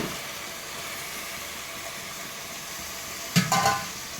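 Mutton and ginger paste fry in a pan, giving a steady, even sizzling hiss throughout, with a brief clatter of stirring near the end.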